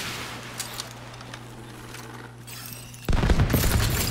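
Gunfire from The Division 2 breaks out suddenly after a quiet stretch with a steady low hum and a few faint clicks: a loud, dense, continuous volley of shots up close that keeps going to the end.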